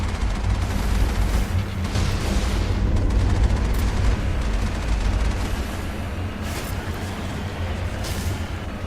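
Loud, sustained rumbling explosions and booming blasts in the Mass Effect video game, a dense roaring wash with several sharper bursts layered over it.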